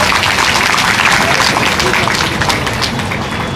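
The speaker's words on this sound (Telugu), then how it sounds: "అందరూ ఒకసారి గట్టిగా చప్పట్లు కొట్టాలి." Dense, steady applause from a large audience at a public function honouring women, the clapping filling the whole stretch at an even, close level with no speech over it.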